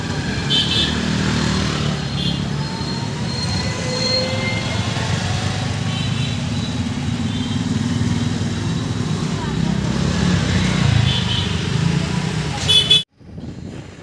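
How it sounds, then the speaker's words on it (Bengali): Motorcycles queue at a busy petrol station at night. Engines idle and rumble alongside passing road traffic, with repeated horn honks and voices murmuring in the background. "দেখো কি হারে বাইক দাঁড়িয়ে আছে।"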